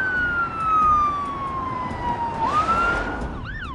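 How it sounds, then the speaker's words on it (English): An emergency vehicle siren wails in a single long, slowly falling tone that then swoops back up, heard from a moderate distance over road noise. "expect the siren to go back on and the vehicle to come past"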